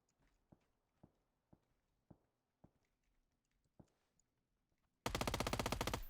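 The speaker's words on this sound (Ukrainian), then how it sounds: "по мені хтось стріляє" PUBG gunfire: single distant shots crack at a steady half-second rhythm, then a loud, close automatic burst erupts and keeps going to the end.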